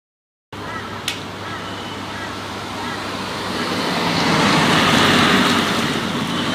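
A road vehicle slowing and easing past beside an agricultural field, its broad rumble building steadily louder as it nears, with a brief faint tick early on.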